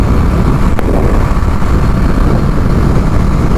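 A BMW G 310 GS single-cylinder motorcycle cruising down a highway, its steady loud engine drone mixed with road and wind rumble, continuous and close with no talking.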